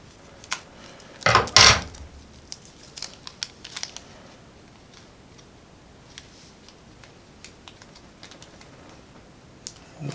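A small heat-sealed plastic bag holding computer motherboard parts is cut open, giving a sharp crinkling snip followed by scattered faint ticks and light plastic rustles in a quiet room.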